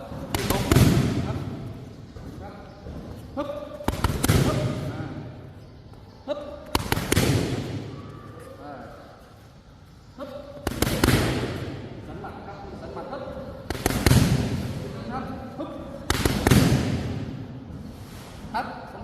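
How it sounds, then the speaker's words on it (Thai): Punches thud home in repeated one-two-hook combinations, several loud impact bursts at intervals under spoken commentary in Thai. "ชกตัวหมัดสองฮุกนะครับตุบปั๊บ"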